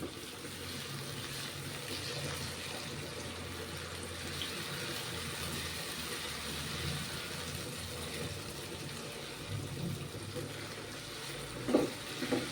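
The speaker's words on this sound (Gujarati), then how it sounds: "બટેકા આપણે તેલમાં જ એડ કરી દેવાના છે કાચા છે" Raw potatoes added to hot oil for a white pulao, giving a low, steady sizzle and bubbling at close range, with a couple of louder clinks near the end and no speech.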